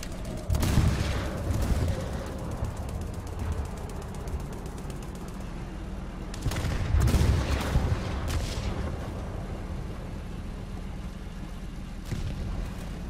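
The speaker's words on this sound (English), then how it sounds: "Artillery is ready." War Thunder artillery strike going off in heavy bursts: a thunderous boom near the start, a second cluster of loud explosions around the middle, and a lighter blast late on, over a steady rumble of battle noise.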